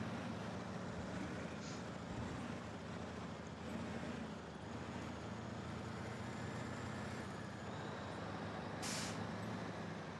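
Truck with air brakes in SnowRunner, a faint steady engine drone with a short sharp hiss of air brake release near the end.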